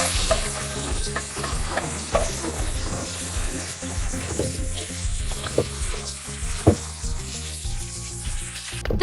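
Cheese sauce being mixed into a bowl of potatoes, onions, pepper and spinach, with repeated wet stirring and scraping strokes heard close, over a continuous busy background sizzle-like hiss.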